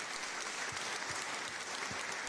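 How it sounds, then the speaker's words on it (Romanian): A crowd at a live book talk applauds the event volunteers, a dense, even wash of clapping heard from within the audience, sustained throughout without speech. "Haideți să aplaudăm voluntarii, dacă se poate."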